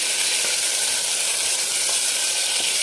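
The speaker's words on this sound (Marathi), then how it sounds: "ही जे चरबी काढून घेतली होती ती आपण मध्ये टाकणार आहे आणि तिला पण तेलामध्ये छान असं फ्राय करणार आहे" Trimmed mutton fat fries in hot oil for a spicy mutton curry, making a loud, continuous crackling sizzle with no voices.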